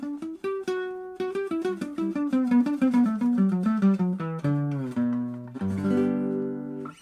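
Single notes picked one after another on a fretless guitar, each with a dull, muffled tone that fades quickly, played in a steady run and ending in a few fuller held tones, close and alone.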